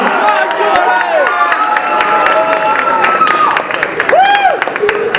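A student dance competition audience cheers for the first dancing couple, a lively crowd of shouts, whoops and clapping with excited voices rising and falling over several seconds.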